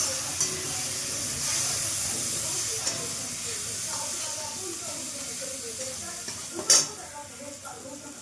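Masala spices frying and being stirred in a pan, an even hiss of oil under scraping spoon strokes, with a sharper spatter and clatter near the end.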